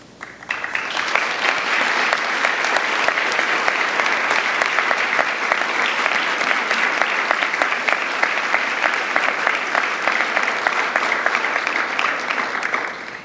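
A large ceremony audience honoring women for bravery breaks into sustained, loud applause, a dense wash of many hands clapping steadily for over ten seconds before tapering off.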